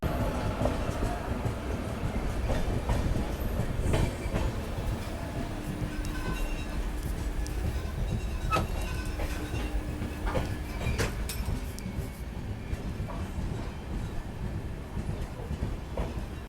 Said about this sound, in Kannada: ಪ್ಲಾಟ್ಫಾರ್ಮ್ ನಂಬರ್ 3 ಎಂಟ್ರ್ ಆಗೈತ್ರಿ. ಈಗ ನಮ್ಮ ಮುರುಡೇಶ್ವರ ಕಾಚಿಗುಡ ಎಕ್ಸ್ಪ್ರೆಸ್ದು ಸ್ಟಾಪ್ ಕೊಟ್ರಿ.